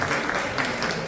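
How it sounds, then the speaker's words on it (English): An audience at an older persons' talent and fashion show in a Cayman theater applauds the Minister of Health, a dense, steady wash of clapping that holds at an even level for the whole short stretch. "Round of applause for her."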